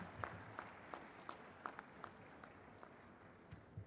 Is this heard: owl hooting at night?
no